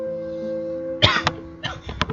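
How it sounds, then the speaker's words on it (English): A single person coughs close up over a soft background hum, one harsh burst followed by a few rougher, raspy coughs. "That cough was so ugly."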